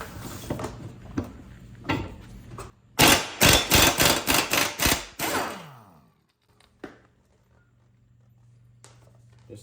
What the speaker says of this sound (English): So time for impact wrench.